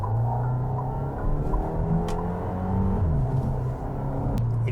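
A Fiat Pulse Abarth accelerating after its Poison sport button is pressed: a steady engine drone climbs in pitch and drops with a gear change, then climbs again, continuous and close.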